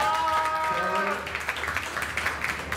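Brief burst of audience applause at a Malaysian motorsport racing event, with scattered clapping rising right after a short spoken introduction and continuing steadily at moderate loudness to the end.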